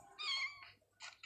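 Cat meowing in the mobile game Toca Life Neighborhood: a drawn-out cartoonish meow followed by two shorter meows, clear and close against a quiet background, with no speech.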